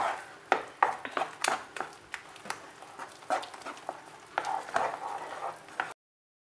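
Paneer ladoo mixture is stirred in a pan with a spoon, making repeated scraping and clacking strokes in a quick, uneven rhythm, loud and close, over a faint sizzle. The sound stops abruptly just before the end.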